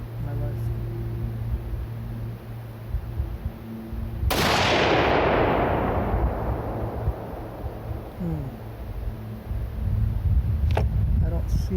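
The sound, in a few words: gunshots firing homemade reloaded bullets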